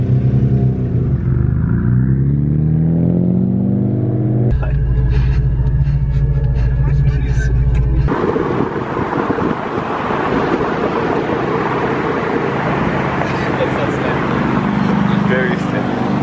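Nissan Skyline GTR engine rumbling steadily while cruising, loud and close throughout, with a shift in tone partway as the car changes speed.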